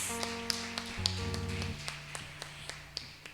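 A church congregation claps in a steady, rhythmic beat over sustained keyboard tones during a worship service, the claps sharp and evenly spaced.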